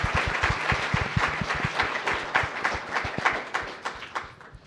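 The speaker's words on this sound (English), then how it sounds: "let's give a round of applause to Sisha and Greg for that great introductio" An audience at a community history panel discussion gives a round of applause, individual claps standing out in a brisk rhythm that gradually thins and fades.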